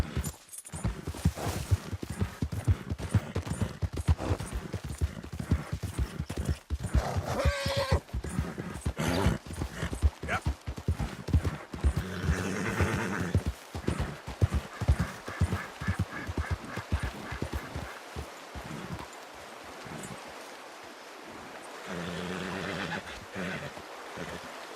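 Galloping horse hooves in the video game Red Dead Redemption 2, a steady rapid clip-clop running nearly throughout with an occasional whinny, easing toward the end.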